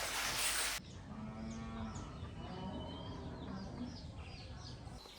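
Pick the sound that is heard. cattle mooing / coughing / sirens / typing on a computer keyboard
cattle mooing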